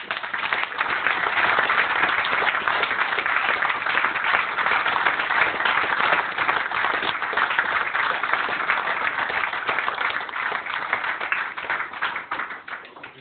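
Audience applause in a workplace gathering honoring an employee's promotion, a dense, steady clatter of many hands clapping that holds loud and even for over twelve seconds before tapering slightly at the end.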